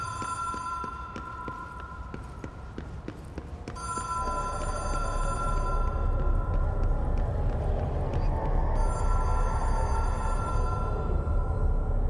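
A telephone rings in a repeating bell pattern inside a government office building's hotline chamber in the video game Control, steady and fairly close over a low ambient hum, with no one talking.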